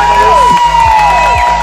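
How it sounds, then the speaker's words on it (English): A crowd at a bodyboarding contest, the 4th Annual Garden Island Boogie Board Classic, cheers and whoops loudly and continuously, with tonal electronic sounds and a low steady hum layered over the noise. "Give him one more round of applause."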